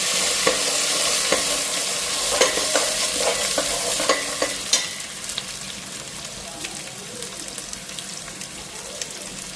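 Spices and dal frying in a pan, with a steady close sizzle broken by scraping stirs and clinks of a utensil, the stirring busiest early and easing into a continuous hiss later.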